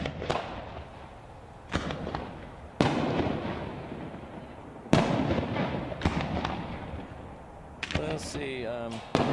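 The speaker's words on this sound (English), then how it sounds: "they're watching this fireworks show from the backside of the grandstands" Fireworks at a graduation show burst in a series of loud, sharp booms with crackling decay, heard from behind the grandstands, with faint crowd voices and a fizzing whistle near the end.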